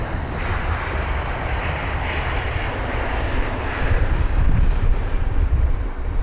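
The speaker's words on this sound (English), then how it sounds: "that touchdown was immaculate" An airliner touching down at London Heathrow, a constant loud jet roar with heavy low rumble that grows stronger toward the end, close to the listener.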